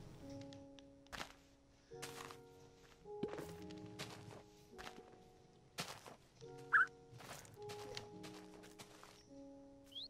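Repeated axe chops into a tree trunk in a video game, sharp thunks landing every second or so, close and fairly quiet, with soft tonal game music underneath.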